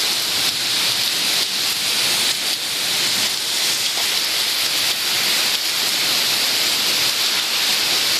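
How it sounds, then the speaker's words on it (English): Steady rain pours down in a continuous, even hiss that holds level throughout, dense and close with no breaks. "You hear the rain, you want to go to sleep."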